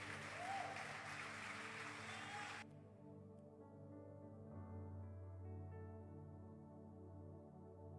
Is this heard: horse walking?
no